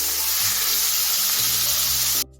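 Pieces of meat frying in hot oil in a pan, a steady close sizzle with the odd stir-like shift, running throughout before cutting off abruptly at the end.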